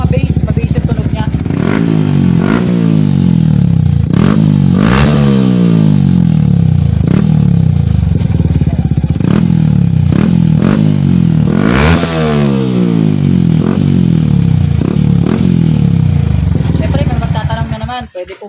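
A Yamaha Sniper 155 motorcycle fitted with an aftermarket Hun power pipe, revved repeatedly up close: loud, deep, bassy throttle blips rising and falling over a steady idle, with clattering mechanical noise before it cuts off at the end.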